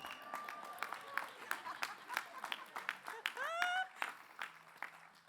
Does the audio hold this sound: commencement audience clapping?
yes